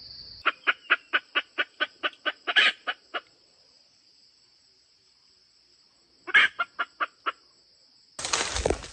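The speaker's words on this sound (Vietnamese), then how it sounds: "Tiện thể mình nghe mấy con gà rừng ở trên đá núi đó." Wild junglefowl calling on a rocky mountain: a rapid, evenly spaced run of about a dozen harmonic call notes, a quiet pause, then a shorter burst of similar notes, ending in a rush of broadband noise.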